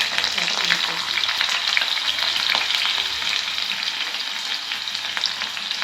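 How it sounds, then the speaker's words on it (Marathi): Chopped onions fry in hot oil in a pan for a Marathi home-style curry, a loud, steady sizzle with crackling bursts and occasional stirring scrapes, close up and without speech. "कांदा चांगला लाल करून घेऊ आणि मग वाटण टाकू।"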